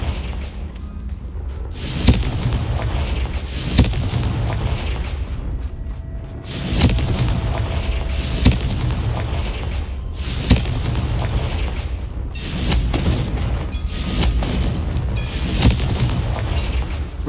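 Repeated booming spell explosions from Confringo being cast in the Hogwarts Legacy video game, a dozen or so heavy blasts at irregular intervals of about one to two seconds over a continuous rumbling game soundscape, with no speech.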